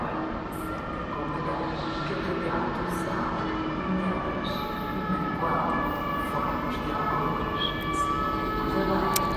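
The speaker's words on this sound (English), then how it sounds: "With sirens as well." Emergency sirens wail in the background at Lisbon Oriente train station amid steady rumbling of a train arriving, a continuous dense wash of station noise with distant rising tones.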